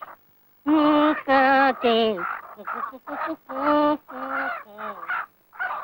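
Loud, harmonic chicken calls come in repeated bursts with short pauses, close up and sounding more like gobbling or honking than soft clucking.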